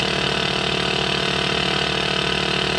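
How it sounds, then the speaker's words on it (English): Steady engine idle from an ATC-810 flight simulator as the right engine is cranked up, a constant loud droning hum with no talk. "crank up the right engine"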